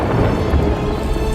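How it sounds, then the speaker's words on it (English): Timefall storm from the Death Stranding 2 video game, a loud dense roar of heavy rain with deep rumbling, continuous and close. "The timefall storms are growing more intense as well."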